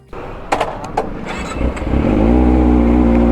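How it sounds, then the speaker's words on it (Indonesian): A Kawasaki ZX25R motorcycle engine gives a few sharp mechanical clicks, then fires up and swells into a loud, steady, close-up roar. "Yuk kita gas motornya."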